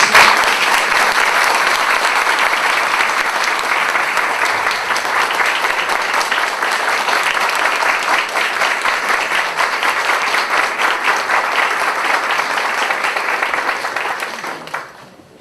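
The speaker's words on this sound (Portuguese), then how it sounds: "Eu peço a ela uma salva de palmas." Sustained audience applause from a large crowd, loud and dense for about fourteen seconds before tapering off quickly at the end.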